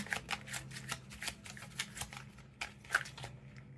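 A deck of tarot cards being shuffled during a card reading, a rapid run of crisp riffling flicks and soft slaps, close and steady, with no talking over it.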